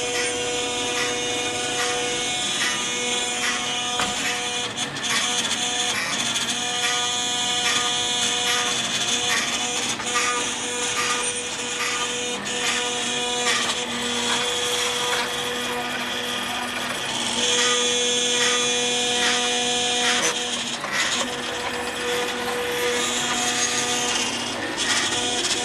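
A DIY CNC router runs continuously with steady whining motor tones, grinding cutting noise and vibration rattles, loud and close throughout with small shifts in pitch.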